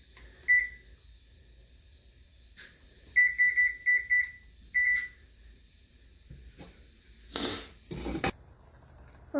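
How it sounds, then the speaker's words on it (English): A kitchen timer being set while cooking a keto chicken enchilada casserole, giving short sharp beeps, a single one then a quick run of several, followed by some clatter of kitchen handling. "So I'll just set the timer for 15."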